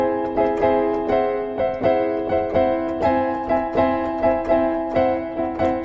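Repeated chords struck on an instrument, altered with a lowered or raised fifth, sound alone in a steady rhythm of about two hits per second, each one decaying before the next.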